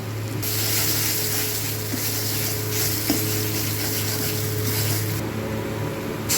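Spices with salt and turmeric sauté in a pan with a continuous close sizzle, punctuated by a few scraping clicks from stirring.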